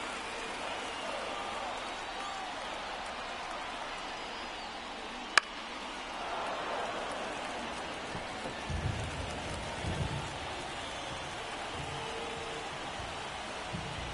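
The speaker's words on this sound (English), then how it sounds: "This rain is not letting up." Steady rain hisses over a ballpark during an MLB The Show 24 baseball game, a constant wash of drops with a brief sharp crack partway through and muffled rumbling thuds later under faint commentary.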